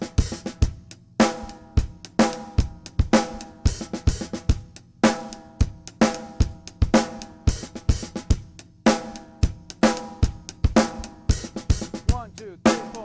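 A drum kit plays a drum part in 7/8 time at a slow tempo, with steady kick, snare and cymbal hits forming a repeating odd-meter pattern, loud and close with no talking.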